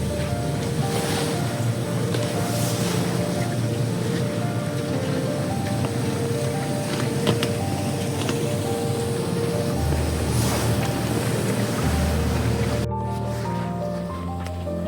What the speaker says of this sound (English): What's really cool is I can hear the water above me.